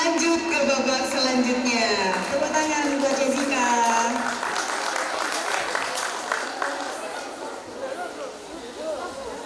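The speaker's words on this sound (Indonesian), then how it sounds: "Tepuk tangan buat Jessica." Applause from the audience at a Sayyidah As Sholchah selection event, with crowd chatter mixed in; voices and music-like tones sit over the clapping early on before the clapping continues steadily to the end.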